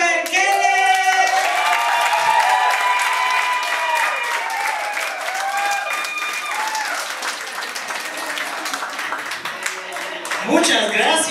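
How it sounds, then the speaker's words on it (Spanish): Sustained audience applause for stand-up comedian Robert Keller at a Spanish-language comedy show, loud and continuous clapping with crowd noise and cheering voices mixed in throughout. "Por favor, un gran aplauso para Robert Keller."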